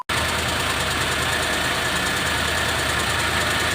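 A Suzuki F6A multicab engine, just fitted with a replacement distributor, starts abruptly and settles into a steady, loud idle with a continuous mechanical clatter, heard close up and without talk.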